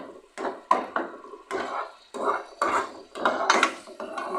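Tomato puree is sautéed in a pan, heard as a series of rhythmic scraping and stirring strokes of a spatula against the cookware, each lasting about half a second, close and moderately loud, without talk.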